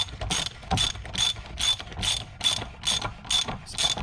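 Ratchet wrench tightening the oil drain plug on a 2019 Jeep Wrangler JLU during an oil change, a close, crisp clicking in about nine regular bursts, alone with no talk.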